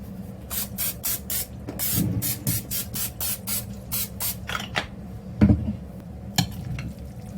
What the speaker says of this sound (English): oil spray.